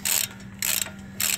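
Ratchet snugging the hub bolts on a Dodge Ram 1500 2WD front wheel bearing, three quick bursts of clicking close up with a steady hum beneath.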